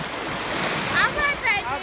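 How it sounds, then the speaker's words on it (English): Steady ocean surf rumbles and washes close by at Panama City Beach, with faint voices and brief higher calls rising over the waves. "enjoying these waves, baby. Listen at them"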